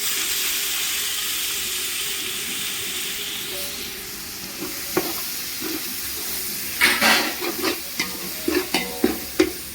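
Tomatoes sizzling in a frying pan while being stirred for a country chicken biryani, a steady hiss with soft scraping and a run of louder stirring clatters toward the end, close and without voices.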